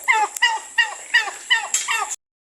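A turkey gobbles in quick repeated bursts, about six rapid warbling calls in a row, close and clear, then silence.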